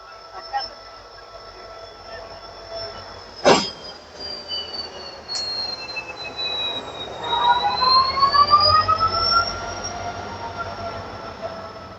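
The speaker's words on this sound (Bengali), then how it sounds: "আমাদের দীঘা স্পেশাল ট্রেনটা ছেড়ে দিল" The Howrah to Digha special local train pulls out of platform 19 at Howrah, with a sharp metallic bang followed by rising rumble and long squealing wheel screeches as it gathers speed.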